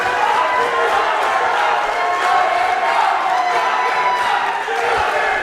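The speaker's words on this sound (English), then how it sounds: "Listen to this crowd." A pro wrestling arena crowd roars and cheers continuously, a dense loud wall of voices with whoops and shouts sustained throughout.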